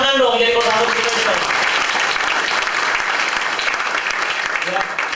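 An audience at an insurance agency meeting claps loudly and steadily right after a voice at the start, the applause continuing dense and near.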